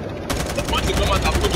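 Gunfire in the Call of Duty Mobile video game: a rapid, steady burst of automatic shots starting abruptly and continuing loud and close throughout.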